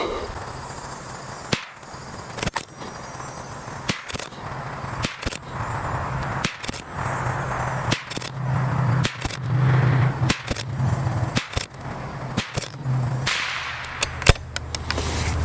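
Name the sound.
22LR rifle shots with CCI Mini Mag ammunition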